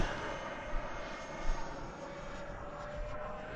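An Avanti S v2 RC jet carrying a 6S 10,000 mAh battery flies past, a faint, steady whoosh of engine noise rising slightly in brief swells, with no voices.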